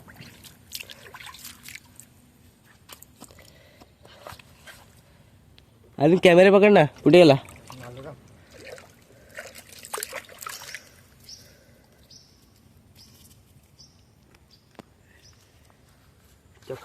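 A muddy sandal is washed in a village river, with soft drips, trickles and splashing of water throughout, broken by a burst of louder talk in the middle and other voices speaking over it.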